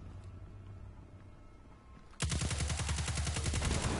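Rapid automatic weapon fire in the video game Destiny 2 bursts in after a quieter stretch of ambient game sound, a loud, sustained stream of closely spaced shots continuing to the end.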